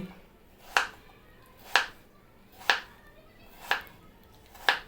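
A knife slices potatoes thinly on a cutting board with five crisp, evenly spaced chops about a second apart, close and distinct over a quiet background.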